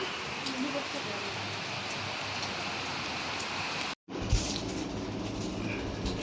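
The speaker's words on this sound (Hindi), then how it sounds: "ये देखिए अभी गजब बारिश शुरू हो गई" Heavy monsoon rain pours in a dense, continuous hiss, broken by a brief cut partway through, with faint voices in the background.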